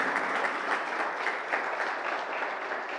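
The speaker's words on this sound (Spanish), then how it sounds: "¿por qué no le damos un aplauso fuerte al Señor" Strong, continuous applause from a church congregation, the even clatter of many hands clapping together without pause for a few seconds, moderately loud and filling the space.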